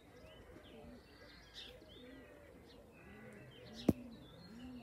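Coloured racing pigeons in a flock, cooing and calling softly outdoors amid steady background noise, with a single sharp knock or clap standing out near the end.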